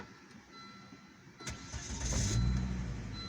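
A Volvo S70 non-turbo inline five-cylinder engine cranks briefly with a sharp starter burst, then catches and settles into a steady, fairly loud idle close by.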